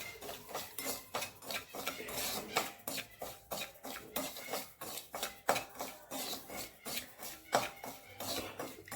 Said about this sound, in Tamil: ரவா வறுத்துக்கலாம்